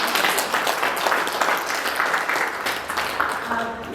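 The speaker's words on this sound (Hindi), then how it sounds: "हम मगदली के लिए एक बार ताली बजाकर उन्हें" An audience at a felicitation program for a newly installed Provincial claps for Magdali, a thick, steady round of applause from many people, with voices faintly mixed in.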